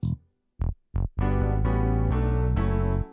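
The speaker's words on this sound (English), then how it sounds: "I'll have a bass guitar sound font to fill in" A bass guitar sound font plays a fill in a disco track: a few short plucked low notes separated by pauses, then a sustained run of deep, rich tones, loud and alone.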